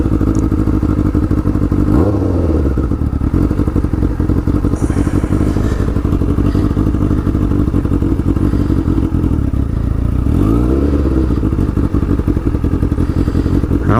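A motorcycle fitted with a shorty exhaust pipe runs loud and close, its steady, rapid, throaty pulsing rising in pitch twice as the throttle is blipped, with clattery mechanical noise and no talking.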